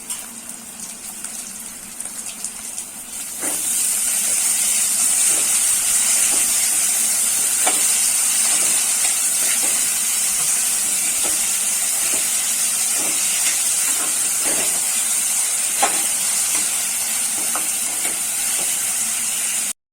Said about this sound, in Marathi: आता त्याच्यामध्ये मी टोमॅटो भाजून घेते।